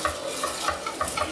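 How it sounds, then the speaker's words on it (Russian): Rice frying in butter in a pan, a steady close sizzle broken by rhythmic scraping strokes of a utensil stirring it around. "Я его обжариваю на сливочном маслице."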